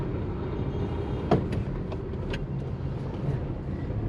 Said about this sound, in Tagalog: Traffic lang dito.